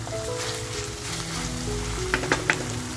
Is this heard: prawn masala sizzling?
yes